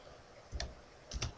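A few soft keyboard clicks in two small bursts, quiet and close, as someone types a name into a computer with no one talking.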